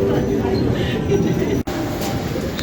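A Toronto subway train runs underground with a loud, steady rumble from inside the car, and a brief dropout partway through before the rumble resumes.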